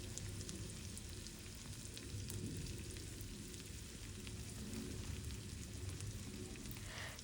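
Chopped onions and curry leaves frying in a hot pan for a Goan style dal, a steady soft sizzle and crackle with light popping, close but quiet.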